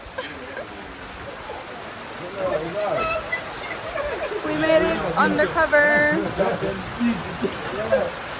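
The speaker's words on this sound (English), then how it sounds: "Ended in the rain, but it was good." Steady rain falls and patters on a covered party barge at the end of a swamp tour on the Black River in Jamaica, a constant wash beneath a voice speaking close by.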